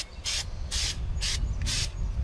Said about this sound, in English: It's spray paint time.